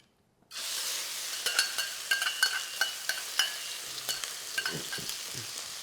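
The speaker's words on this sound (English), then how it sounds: "when you're stir frying any meat like this" Pork hits a smoking-hot wok over a high gas flame and erupts into loud, steady sizzling, with sharp pops and crackles spitting throughout.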